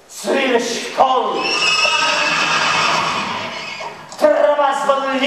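A horse whinnies loudly and at length, a long shaky neigh with a shorter whinny before and after, close by and dominating.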